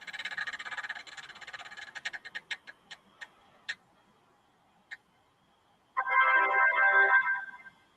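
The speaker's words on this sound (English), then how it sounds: "We're going to go ahead and spin the wheel." A prize wheel on a phone app spins during a Pokémon card break, its rapid ticking slowing into sparse clicks before a short electronic jingle plays, all fairly quiet with no talking.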